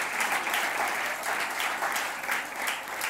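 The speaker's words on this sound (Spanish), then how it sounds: "Dale un aplauso a Cristo el Señor." A church congregation applauds steadily and densely for several seconds, a sustained wash of clapping with no voices standing out.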